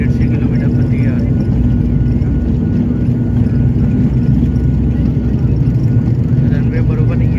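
A passenger plane on a flight from Kannur to Mumbai via Hyderabad rattles as it speeds down an uneven runway, producing a loud, steady engine roar with a dense rumbling vibration that continues throughout, heard from inside the cabin with no talk.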